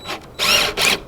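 A power drill driving 1.25 inch screws into wood while a nesting box is assembled, with two short, loud whirring bursts separated by a brief pause.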